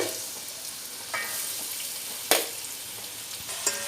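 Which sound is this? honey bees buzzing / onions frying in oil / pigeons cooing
onions frying in oil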